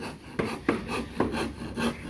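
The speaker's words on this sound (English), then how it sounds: "over there sawing up blocks too" Rhythmic rasping strokes of a saw cutting through a concrete block, four gritty pulls spaced about half a second apart, close by with no voices.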